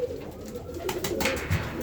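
Pigeons cooing close by in a loft of racing birds, a soft low coo rolling through under a faint background hum, with no voices over it.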